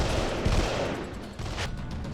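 Sustained machine gun fire from the PS2 video game Delta Force Black Hawk Down, a loud dense rattle of rapid shots that fills the whole stretch with no speech.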